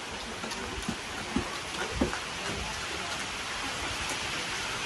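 Steady, soft rain patters evenly on a surface, with a few slightly louder drops standing out now and then.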